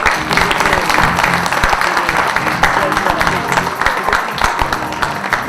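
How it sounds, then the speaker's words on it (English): Applause rolls steadily through an audience at a Kohler architect meet in Nepal, dense clapping throughout, with a faint voice under it. "Can we have a round of applause for Mr. Rahul?"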